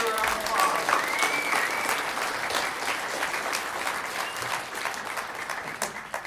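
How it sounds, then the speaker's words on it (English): An audience applauds a singer at a Veterans Day ceremony in Henderson, Nevada, steady dense clapping that fills the room and slowly thins, with some voices mixed in. "Let's give her a round of applause."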